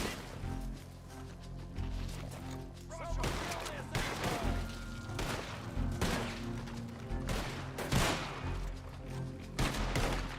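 Gunfire in Red Dead Redemption 2, repeated sharp shots and thuds scattered across a busy soundscape with background music and voices mixed in.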